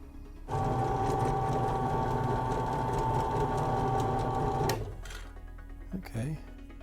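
A power drill runs steadily for about four seconds, boring a screw hole into a ball with a constant motor whine, then stops, followed by faint handling sounds.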